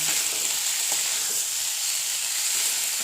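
Vegetables with salt, sugar and mixed vegetable spice frying loudly in a pan, a constant close, bright hiss with soft stirring scrapes, no speech.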